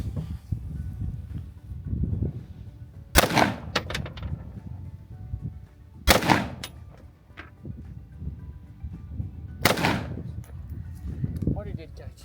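Three rifle shots of .223 fired at a pickleball paddle, each a sharp loud crack spaced a few seconds apart, with people talking in between.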